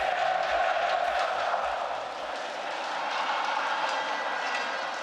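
An arena crowd sings in unison at a CS:GO semifinal match between mousesports and SK on Dust2 at ESL One Belo Horizonte, a loud, sustained roar of massed voices filling the hall.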